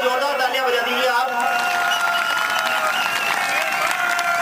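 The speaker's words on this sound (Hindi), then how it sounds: "Once more, आगे जोरदार तालियां बजा दीजिए आप।" An audience at a Hindi poetry gathering bursts into loud, sustained clapping and cheering, with a steady tone and a voice carrying over the crowd noise.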